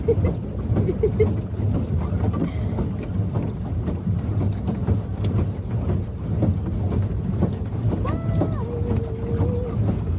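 A boat travels across a lake, with steady engine and water rumble and wind buffeting the microphone throughout, while people talk faintly nearby.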